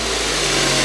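A 2004 Honda CR-V engine runs steadily at close range, a constant mechanical hum with no speech over it.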